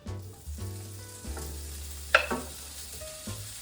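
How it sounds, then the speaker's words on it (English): Crisp sizzling of chorizo in a hot pan, steady and close, with a sharp clatter of a utensil midway and a low background hum. "Hear that sizzle? It's getting nice and crispy."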